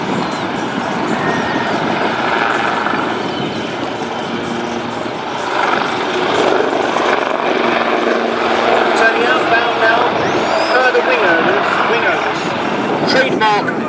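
Aerobatic display aircraft, a formation of Yak 52 and Yak 50 planes, flying a nose-over manoeuvre at an air festival, with a steady broad engine and propeller roar that swells and fades under continuous crowd noise and commentary.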